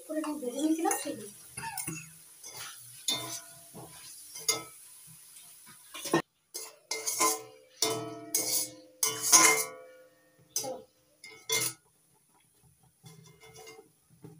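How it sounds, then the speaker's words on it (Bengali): Fried pieces of flour dough are tipped into a cooking pan with clattering metal clinks and a spoon scraping, in short bursts with pauses, over a faint sizzle and a voice talking. "এবার দিয়ে দিচ্ছি ভেজে রাখা সেই ময়দার টুকরো টুকরো করে ভেজে নিয়েছিলাম সেগুলো।"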